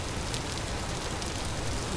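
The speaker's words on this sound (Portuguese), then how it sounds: "Tô vendo pedrinha de gelo." Hail pelting down in the survival game Vintage Story, a dense, steady hiss of tiny ice pellets striking the ground, continuous and even with no talking.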